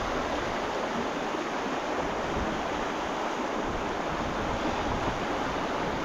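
Wind-driven rain and rushing water at a waterfall form a loud, steady, broadband roar that continues unbroken.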